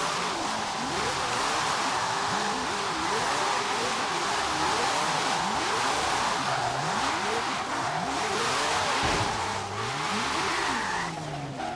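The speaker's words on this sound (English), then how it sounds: "just drifting in this parking lot" Mazda MX-5 built as Mad Mike Whiddett's Radbull drift car in Forza Horizon 3, drifting around a parking lot: revving engine sweeping up and down repeatedly with sustained tire squeal, steady and loud for the whole stretch.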